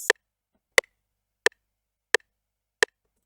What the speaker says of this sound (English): And then the next thing is the open hat.